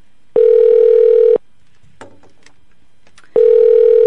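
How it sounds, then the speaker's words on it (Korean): Ringback tone of an outgoing telephone call: two loud, steady electronic ring bursts about a second each, separated by a gap with faint clicks, heard close and clear without talk. "제가 지금 또 어디론가 전화를 걸고 있어요."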